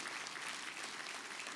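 Steady applause from an audience fills the whole stretch, a dense even wash of clapping with no voices over it.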